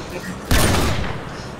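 A single heavy burst of gunfire erupts in a Modern Warfare 2 match on the Terminal airport map, a loud blast followed by a sustained roaring decay, with background game noise before it.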